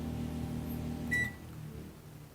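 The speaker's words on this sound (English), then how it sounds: "so it will run the microwave" A microwave oven runs on a Champion 1850-watt dual fuel generator, giving a steady low hum that continues throughout with a brief higher tone near the middle.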